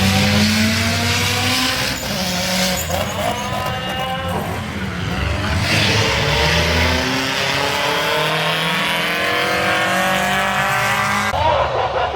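A big-block-engined Mazda Miata roars past at a Cleetus and Cars event in Bradenton, the engine loud and close, climbing through gears and squealing its tires over twelve seconds, with no talk.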